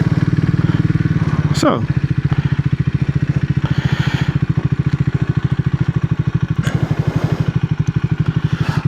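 Triumph Speed 400 motorcycle being ridden, its single-cylinder engine thrumming steadily and close throughout with a brief rise in revs early on, while a rider speaks briefly over the engine.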